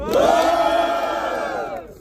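Loud crowd cheering and whooping at a Brazilian freestyle rap battle, a dense roar of voices that swells at once and holds for about two seconds before easing off slightly.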